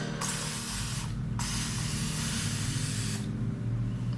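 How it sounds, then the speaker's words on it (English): A Flairosol continuous-mist spray bottle spraying water onto hair, giving long loud close hissing bursts, with two brief pauses between sustained sprays. "it's like a continuous spray"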